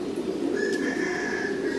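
Pigeons cooing inside a pigeon breeding loft, low repeated coos close by with a few brief chirps and a soft flutter of wings.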